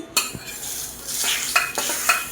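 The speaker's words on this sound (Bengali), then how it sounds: "মাছটা ভেজে নেব" Rohu fish fries in hot oil with a soft sizzle, broken by sharp clinks and scrapes of a utensil against the pan and a few brief hisses. No one speaks.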